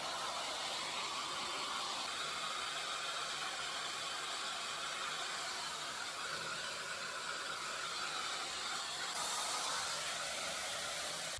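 A Luxx Air Pro hair dryer roars steadily at maximum power and temperature, a loud broad airy blast that barely changes, shifting slightly near the end; no voices.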